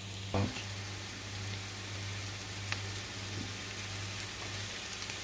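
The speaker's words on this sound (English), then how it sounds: "we're just going to go ahead and add our garlic into the pot" Garlic hits the hot pot during rice cooking with a sharp burst of sizzling, then settles into a soft, steady frying crackle that continues quietly for several seconds.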